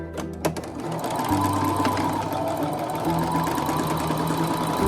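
A sewing machine runs steadily while stitching and backstitching a seam, its close, even mechanical whir continuing without pause and with no voices.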